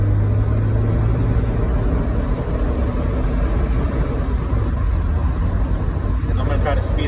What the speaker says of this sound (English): The car sounds great, nice and steady and straight.